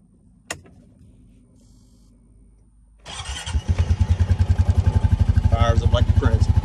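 A 2020 P5 vehicle engine cranks and fires up at about three seconds, settling into a loud, steady rhythmic idle close by after a quiet cabin with a single click beforehand.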